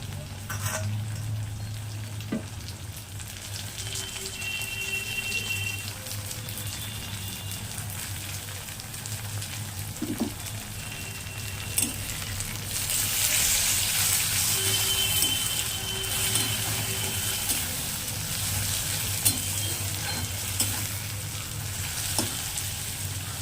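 Onions fried until red sizzle steadily in a pan for Bengali fish curry, and tomato is added and stirred in. A continuous crackle runs under intermittent spatula knocks and scrapes, swelling midway, with no talking.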